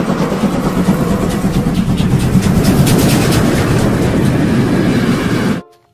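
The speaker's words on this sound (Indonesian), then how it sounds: "Ada kereta uap teman-teman." A steam train passes with a loud, continuous rumbling clatter that stays steady for several seconds and then cuts off abruptly into near silence.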